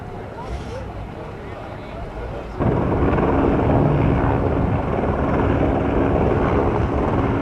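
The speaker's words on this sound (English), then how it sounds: "There's a chopper hovering over the Oval here" A helicopter hovers overhead above an oval ahead of an Honor Flight veterans' parade, its rotor chop becoming a loud, steady broadband roar partway through, nearby and continuous.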